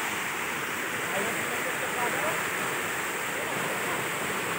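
A waterfall on a rural property in Quezon gives a constant broadband rush of falling water that stays even and unbroken throughout, with no distinct events standing out.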